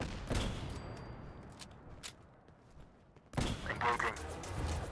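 Gunfire from the Fallout 4 video game with Galac Tac mods: bursts of shots, faint and scattered at first, then a louder dense volley in the final seconds, with a voice talking throughout.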